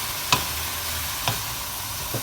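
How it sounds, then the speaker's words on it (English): Egg scrambled in hot frying oil is stirred into prawns for fried rice: a steady close sizzle with three brief scraping stirs of the utensil against the pan. "Pour the egg into the oil, stir until like scrambled eggs, then mix into the prawn."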